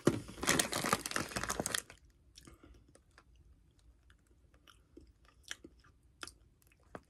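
Crunchy Hawaiian chips being chewed up close, a dense burst of loud crisp crunching for about two seconds, then fading to scattered quieter bites and mouth sounds.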